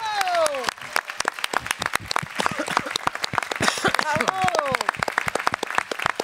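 Audience at a national eloquence competition in Aix-en-Provence clapping for the winner, sharp, scattered claps mixed with a loud announcer's voice speaking over them.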